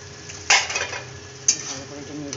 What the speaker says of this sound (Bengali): ভালো করে এটা নেড়ে দেবো।